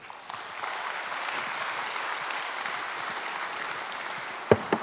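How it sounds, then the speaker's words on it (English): Conference audience applauding steadily at a plenary session on spacewalking, a dense continuous patter of clapping hands that holds for several seconds, with a couple of louder bumps near the end. "Another applause."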